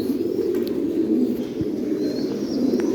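Soft, low pigeon cooing rumbles steadily through the clip, with faint bird chirps and a quiet outdoor background.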